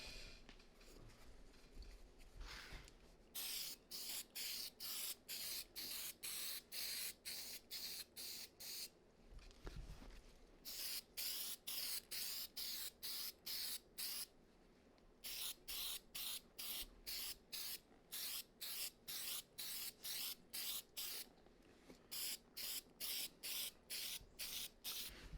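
Cleaner sprayed onto Timberland boots in quick repeated bursts, close and loud, with short pauses between runs of rapid hissing pumps.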